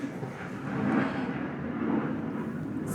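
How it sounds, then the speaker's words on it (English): Jet aircraft flying overhead, a steady broad roar that swells and fades slightly, heard faintly in the distance with no one talking. "So guys, that would be a jet."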